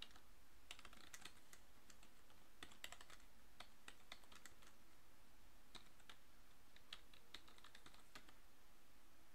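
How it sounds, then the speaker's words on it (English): Typing on a computer keyboard while entering a Windows Server PowerShell command, with brisk irregular clusters of close key clicks and brief pauses, alone without talk. "we'll go ahead and just type this in full just so you can see the error."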